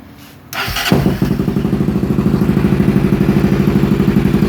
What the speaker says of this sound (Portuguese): Vamos aqui ligar essa motocicleta.